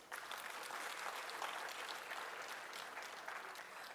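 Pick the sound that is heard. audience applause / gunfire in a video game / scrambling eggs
audience applause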